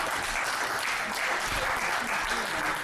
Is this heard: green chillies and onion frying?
no